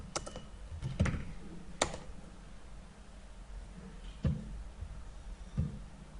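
Keystrokes on a computer keyboard while entering first and last names into an Android app form, coming in scattered single clicks and short bursts, close and fairly quiet over a faint background hiss.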